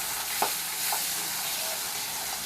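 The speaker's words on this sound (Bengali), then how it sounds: "আরও 3টা করে মাছ আমি ভাজার জন্য দিয়ে দিলাম কড়াইতে" Catla fish pieces sizzle in hot oil in a kadai, with a steady close hiss and a couple of soft utensil knocks early on.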